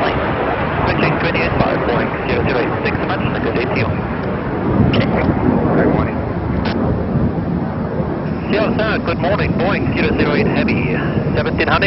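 A Boeing 747-8 Intercontinental jet climbs out after takeoff on its first flight, a steady, loud broadband roar of heavy thrust mixed with wind noise that holds for the whole stretch without pause.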